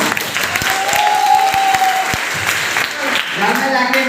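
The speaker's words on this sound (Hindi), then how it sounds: "जो हमको इनवाइट किया था उसके लिए जाते गए जोरदार ताली होना चाहिए मिस्टर विक्रम भैया" An audience claps together at an Indian community program, loud and continuous rapid applause that lasts the entire moment, with voices faintly mixed in.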